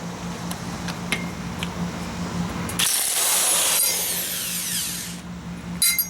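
Impact wrench with a 17mm socket spinning off a tight fan bolt on a Kawasaki FH500V 17 HP engine: a loud, close, high whirring burst of about two and a half seconds after quieter handling noises, then a brief rattle at the end.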